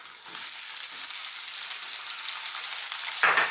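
Curry leaves and red onions frying in a pan for an Indian chickpea mushroom fry, a loud, steady sizzle that bursts up suddenly near the start, crackles continuously and flares again briefly at the end, with no voices.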